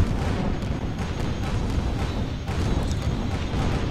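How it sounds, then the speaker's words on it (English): Dense, continuous booming gunfire from airship combat in the game Guns of Icarus, a loud, unbroken wall of rumbling shots and blasts with no clear gaps. "Where is that shooting coming from?"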